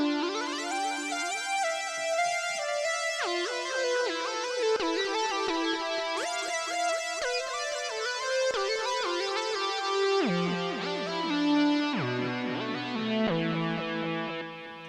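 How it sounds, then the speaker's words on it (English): A keyboard synthesizer on a delayed, grandiose lead patch plays a busy melodic line of bright, harmonically rich notes that shift in pitch throughout, with heavy echo trails and no voices. "So here's the sound of the keyboard."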